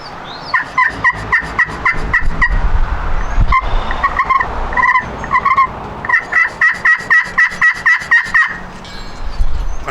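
HS Strut Black Magic friction turkey call scratched with a plastic-tipped striker, producing rapid, rhythmic runs of loud, raspy yelps and clucks in several bursts, played close with no talking.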